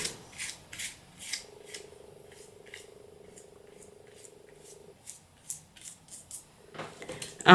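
A brush scrubs over a stencil laid on a card, wiping away excess colour. Quick, close, papery strokes repeat in bursts, pause for a few seconds behind a faint steady hum, then resume.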